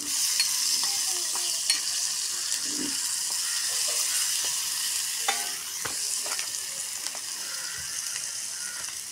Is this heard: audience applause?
no